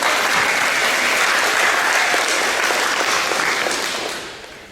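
Audience applauding at a school board of education meeting, a dense burst of clapping from a roomful of people that holds steady and then fades out near the end.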